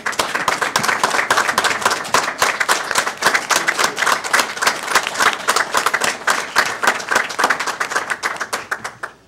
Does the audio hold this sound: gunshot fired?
no